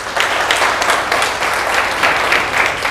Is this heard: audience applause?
yes